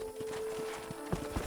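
Horse hooves clip-clop at a steady walking pace in Red Dead Redemption, a run of soft regular thuds with a faint neigh-like tone behind, moderately close and alone with no talk.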